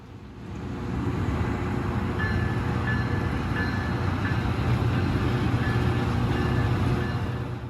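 A rail grinding train set, the smaller type built for crossings and switch areas, runs along the track with a steady, loud low rumble and grinding roar that swells in and holds throughout, with faint high tonal squeals.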